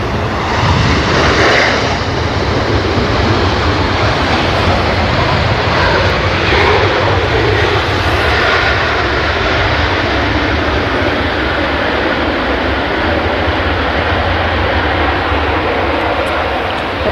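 Airplane arriving at Manchester Airport on a Thursday evening, its engines a loud, steady broadband roar heard close by throughout, with a slight swell early on and no talk over it.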